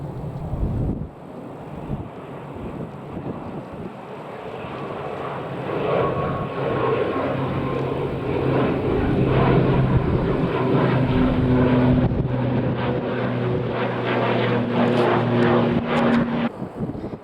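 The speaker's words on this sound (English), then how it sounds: "This one is an Aer Lingus ATR 72-600 that is going to Belfast." An Aer Lingus ATR 72-600 turboprop airliner at Manchester Airport, a loud sustained propeller and engine drone with a steady droning hum, swelling toward the middle and fading slightly near the end, under gusting wind noise on the microphone.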